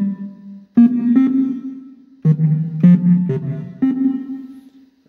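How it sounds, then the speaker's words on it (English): Short plucked or struck tones in bursts, each ringing out into a big, washy cathedral reverb tail from an FXCore effects chip that cuts off fairly abruptly. "let's skip medium reverb and go right to cathedral reverb."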